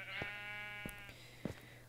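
Sheep bleating in the Minecraft video game, one drawn-out bleat followed by short clicking game sounds, clear and alone without talk.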